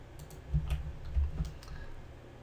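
Short, scattered keystrokes on a computer keyboard while playing modded Minecraft, a few close clicks in two small clusters, fairly quiet and alone.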